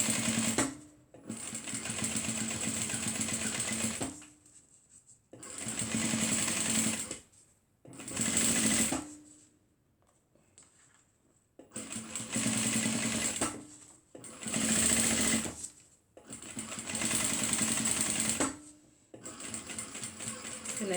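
A sewing machine stitches a fabric foldover clutch purse in several sustained whirring runs of a few seconds each, with short pauses between them and a brief back-and-forth burst for backstitching. Close and loud, with no talking.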